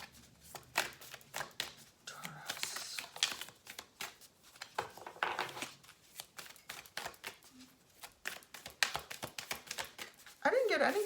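Tarot cards are shuffled by hand in quick, crisp riffling and flicking bursts that come close and repeat for about eleven seconds, while a voice speaks softly over them.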